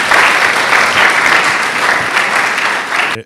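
Sustained applause from an audience at a school sports district awards ceremony in Guédiawaye, steady dense clapping filling the space close by, with a faint voice underneath before it cuts off.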